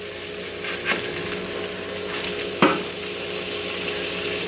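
Burger patties fry in a Copper Chef pan with a steady, close sizzle and crackle, marked by a couple of sharper clicks from the pan.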